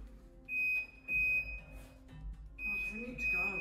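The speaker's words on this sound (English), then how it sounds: "That's what the beeping is. It's the fridge." Repeated electronic refrigerator door alarm beeps, a sustained high tone in bursts, sound over indoor background with people talking and reacting in between.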